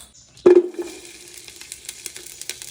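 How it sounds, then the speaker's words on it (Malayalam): Cashews and raisins hitting hot Dalda in a pan for prawn biryani, a sharp sizzle at the start that settles into a steady, close crackling fry with small pops. "ആദ്യം തന്നെ ഇതിനകത്ത് അണ്ടിപ്പരിപ്പും മുന്തിരിയൊക്കെ ഉണ്ടല്ലോ അതൊക്കെ ഒന്നും കണ്ട് വറുത്തെടുക്കുകയാണ്"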